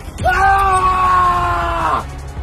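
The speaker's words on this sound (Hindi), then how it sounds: "उसे तेज झटका लगा और उसकी चीख निकल गई" A sorcerer in an audio drama lets out a single loud, sustained scream after an electric shock. The cry lasts nearly two seconds, then breaks off abruptly.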